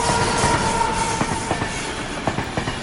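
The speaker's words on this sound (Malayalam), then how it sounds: "സമീപത്തെ റെയിൽപാളത്തിലൂടെ ഇടയ്ക്ക് ട്രെയിനുകൾ ആരവത്തോടെ പാഞ്ഞു പോകുന്നു" A train rushes along a nearby railway track, a continuous rumbling roar with repeated clickety-clack wheel beats and a faint squealing tone, heard alone without voices.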